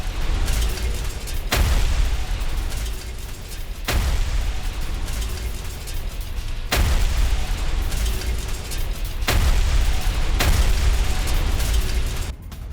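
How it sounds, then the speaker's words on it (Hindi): Artillery strikes on a Russian base in the Russia-Ukraine war, heard as a sequence of loud, sharp booming blasts, roughly five in a row spaced a couple of seconds apart over a continuous low rumble, with no voices. "रूसी बेस पर आर्टिलरी अटैक विद वीडियो, रूसी ठिकानों को तबाह किया गया"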